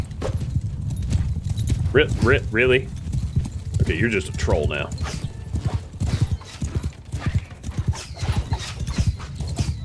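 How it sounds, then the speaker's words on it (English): In the medieval battle game Mount and Blade II Bannerlord, a large mass of horses gallops in a dense, continuous drum of hooves with a few whinnies, while someone talks over it. "Ha, horses! That's a lot of horses."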